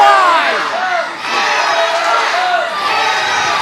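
A large crowd at a wrestling event in Columbus, Indiana roars and cheers loudly and continuously, with shouting voices swelling in waves.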